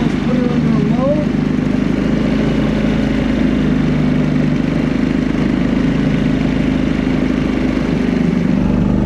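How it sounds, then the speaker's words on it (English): A Powerhorse portable generator engine runs at a steady idle, a continuous droning hum close by with no pauses. "Now we're going to see if it idles."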